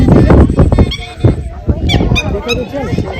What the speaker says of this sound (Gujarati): જો બતક છે ને બતક જ કહેવાય